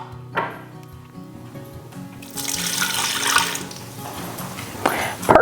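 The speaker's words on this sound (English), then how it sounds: "Now, we also want to make sure we add 3/4 of a cup of vinegar." About three quarters of a cup of vinegar poured into a pot of home-canned tomato salsa, a close, splashy liquid pour that swells for a couple of seconds, with light clinks and kitchen handling noises around it.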